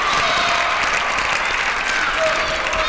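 A table tennis arena crowd at a 2010 ITTF Grand Finals match claps steadily after a player's error, a dense, continuous wash of applause with some cheering mixed in, fairly loud throughout.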